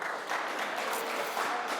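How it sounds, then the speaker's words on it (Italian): Scattered applause from spectators at a Serie B futsal match as the first half ends, a brief, moderately quiet patter of clapping heard from a distance. "Iniziano ad arrivare gli applausi per questa prima frazione di gara che si conclude in questo momento."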